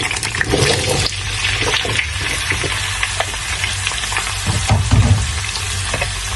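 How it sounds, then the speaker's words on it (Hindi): Potatoes fry in a pan for dhaba-style aloo do pyaza, a loud bubbling sizzle with watery crackles and occasional low knocks, close and continuous. "और इनको फ्राई कर लेंगे। ठीक है, इसको थोड़ी देर फ्राई होने देते हैं।"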